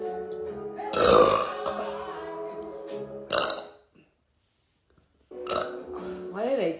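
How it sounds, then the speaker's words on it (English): A long, loud, guttural burp from a woman after eating too much pizza, followed by a second shorter belch and a pause, with her talking between them. "Why did I taste and smell that burp?"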